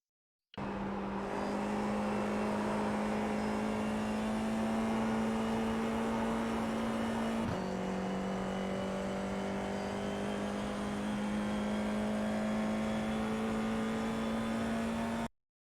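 FIA F4 race car held at full throttle through the fast esses at Suzuka, a steady, loud onboard engine drone with one brief gear-change blip midway, then rising pitch, continuous and alone.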